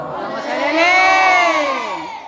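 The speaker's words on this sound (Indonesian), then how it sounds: "Tepuk tangan dulu untuk SDN kita dong, luar biasa." Elementary school children at a Prophet's Birthday celebration in Indonesia let out a loud, rising collective cheer, a sustained shout from many young voices close by, with no distinct clapping standing out.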